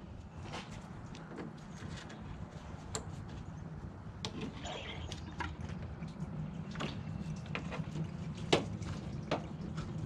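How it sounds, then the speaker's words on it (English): Coolant runs from the opened bottom drain of a 1996 Nissan Hardbody D21 radiator into a pan, a faint steady trickle with scattered small taps and drips, close but quiet. "I've got the drain opened on the bottom of the radiator. It's now running into the pan."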